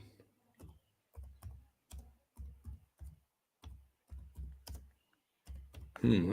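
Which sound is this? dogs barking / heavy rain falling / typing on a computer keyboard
typing on a computer keyboard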